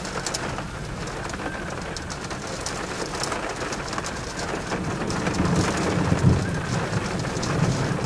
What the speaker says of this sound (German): Das Sound übrigens nice ist so Regentropfen plus Donner.